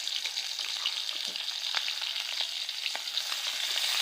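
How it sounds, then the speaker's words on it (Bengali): Green chilies and chopped onion frying in hot oil in a wok for masoor dal, a steady bright sizzle with faint crackles and occasional stirring scrapes, close and alone. "কাঁচামরিচ আর পেঁয়াজ কুচি দিয়ে দিচ্ছি"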